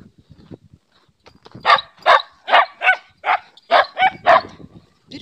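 Dogs barking outdoors, a quick run of about eight loud, close barks at an irregular rhythm, with quieter scuffling before them.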